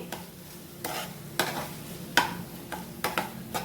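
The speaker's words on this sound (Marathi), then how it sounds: "हे शेंगदाण्याचं कूट घालते आणि थोडीशी कोथिंबीर आणि ओलं खोबरं हे सगळं घालून चांगलं मिक्स करून घेते" A spoon scrapes and stirs through spinach bhaji mixed with peanut powder, coriander and grated coconut, giving several sharp, irregular scrapes and clacks against the pan over a low background hiss, close by with no voices.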